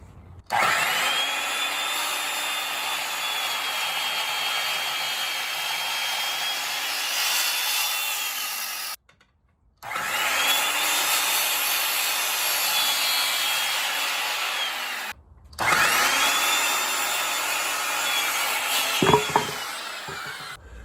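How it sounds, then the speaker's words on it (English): Circular skill saw cutting through a wooden porch post, three loud sustained whining cuts with short pauses between them as the blade bites and the motor winds down. "Now I'm going to cut my post with my skill saw."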